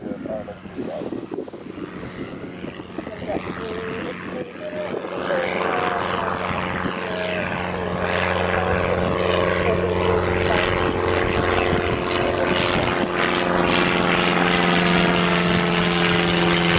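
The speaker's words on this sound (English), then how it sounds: "You can see the A320 just taxiing there on your right hand side." Airbus A320 taxiing at Newcastle Airport, its steady engine roar rising and holding loud in the background while someone speaks over it.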